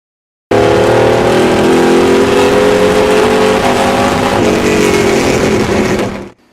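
A 632 cubic inch big-block Chevy V8 with 9.5:1 compression roars steadily at high revs, loud and close, holding a rough rumbling tone before cutting off abruptly near the end.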